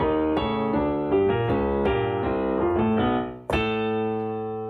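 Salsa piano playing a montuno, with syncopated repeating chords over a bass line and a strong accented chord near the end, played solo without voices.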